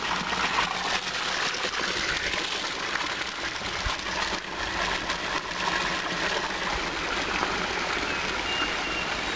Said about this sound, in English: we have the water flow, the water overflow from the main source here